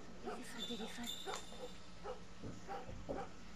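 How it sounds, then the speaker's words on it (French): A dog whimpers and gives soft yips in the video game The Last of Us, faint and brief, with someone talking over it. "Il y a le chien qui est dans le coin."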